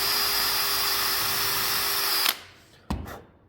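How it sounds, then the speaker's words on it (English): A power drill whines steadily while boring pilot holes in a wooden pencil box, then winds down and stops, followed by a short knock and a brief rattle. "pilot holes are drilled"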